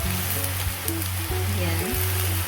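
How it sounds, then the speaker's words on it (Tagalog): Kangkong leaves drop into a hot pan of adobo and set off a steady, close sizzle of frying that runs throughout, with faint stirring and no clear voices. "At isasabay na po natin itong ating dahon ng kangkong."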